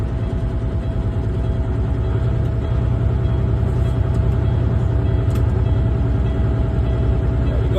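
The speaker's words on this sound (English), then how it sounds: "For that, we need to rev up the RPM at 1200." A truck engine held at about 1200 RPM to build air brake pressure during an air brake inspection, producing a loud, steady, close rumbling drone with no change in pitch and no talking.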